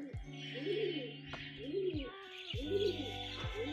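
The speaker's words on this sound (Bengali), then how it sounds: "এই হলো পায়রা" Racing pigeon cooing close by in a loft, three or four rolling coo phrases in a row with soft chirps and light background noise between them.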